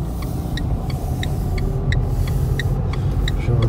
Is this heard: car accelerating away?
yes